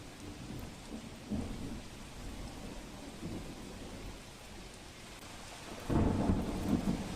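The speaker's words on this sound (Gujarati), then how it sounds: "વરસાદ વરસ્યો।" Heavy rain pours steadily during a thunderstorm in Tapi district, with rolling thunder swelling a few times and a louder rumble near the end, and no voices.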